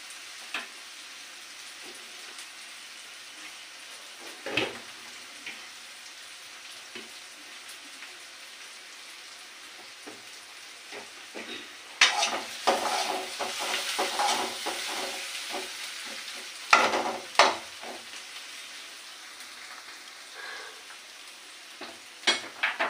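Onions frying in a pan before ginger and garlic go in, for a fish and yardlong-bean dish: a steady soft sizzle throughout, with occasional stirring scrapes that grow louder and busier in the second half. No voices.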